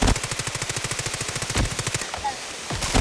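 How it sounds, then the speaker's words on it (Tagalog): Rapid automatic gunfire in a video game, two quick bursts of evenly spaced loud shots with a short pause between, close and sharp, with a brief voice near the end. "grabe naman putok nun"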